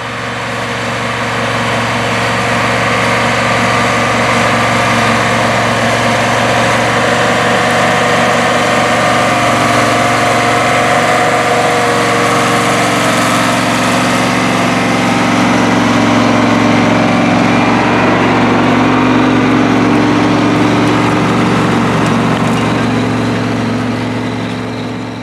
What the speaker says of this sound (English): The farm utilizes their STEIGER Wildcat III ST-210 articulated four-wheel drive tractor